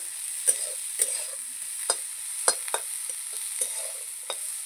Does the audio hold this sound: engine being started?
no